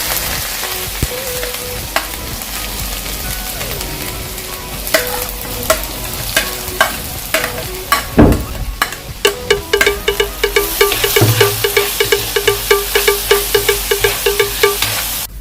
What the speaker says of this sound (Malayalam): ഇതിലേക്ക് നമുക്ക് കടുക് പൊട്ടിച്ചെടുക്കാം